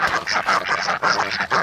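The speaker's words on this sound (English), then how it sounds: "these are all of our different coloured Wyandottes and Indian runner ducks" Indian runner ducks on a tropical Australian homestead, with several birds quacking in quick, overlapping bursts, close by and fairly loud.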